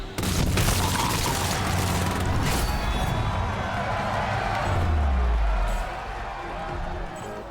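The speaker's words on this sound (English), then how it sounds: "Zoe winds up her Gatling gun. Wind up and shoot." Zoe's Gatling gun in the video game Showgunners, spinning up and then firing a dense stream of booming shots, with a deep rumbling sweep near the end, loud and close, alongside game effects.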